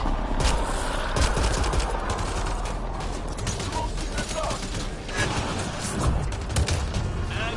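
Dense, continuous gunfire from the Mass Effect Andromeda game: rapid automatic bursts and sharp shots crackle throughout a loud firefight, with shouted voices mixed in.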